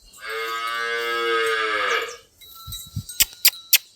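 A single cow at a village cattle shed lets out a long, loud, close moo of about two seconds, followed by a few soft thuds and sharp clicks.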